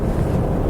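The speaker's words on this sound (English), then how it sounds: "It's noisy. The wind noise is very intrusive." Loud buffeting wind noise inside a 2017 Toyota Yaris cruising at about 80 km/h on country roads, a constant low rushing roar.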